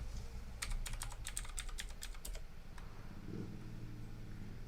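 Fingers typing commands on a computer keyboard, a quick run of crisp key clicks up close that stops partway through, over a low steady hum of background noise.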